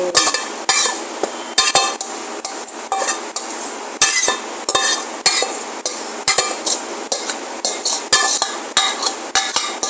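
Cooked Canton noodles being stirred and tossed in a metal pan, steady rhythmic scraping and clinking of a utensil against the pan, loud and close, repeating about twice a second with no talking.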